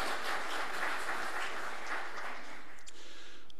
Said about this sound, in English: so let's give yourselves a round of applause for that